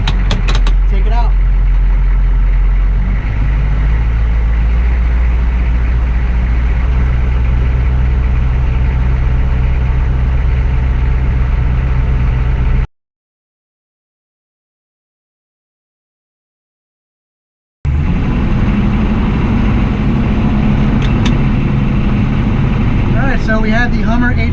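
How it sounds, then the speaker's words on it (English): A Hummer H1 Baja rally truck engine runs at a steady loud idle with a deep rumbling drone, broken by a silent gap before the same heavy idle resumes. "Start it up. Starts right up."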